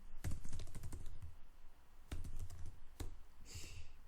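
Close computer keyboard typing while writing a C program: a fast rattling burst of keystrokes, a pause, then a few more scattered presses, with no talking.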